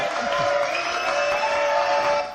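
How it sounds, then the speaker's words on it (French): A crowd cheers and claps with steady, dense applause, loud and sustained throughout, with a few whoops mixed in. "on applaudit Marco"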